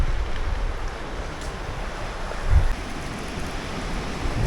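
Waves at Mystic Beach on Vancouver Island, a steady loud wash of surf mixed with wind buffeting the microphone. One heavier surge swells midway, and no one speaks.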